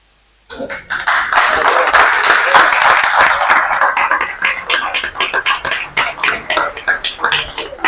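After a brief silence, applause bursts out from the audience at a roundtable on safeguarding maritime heritage, dense at first and then breaking into looser, uneven claps that rise and fall in waves.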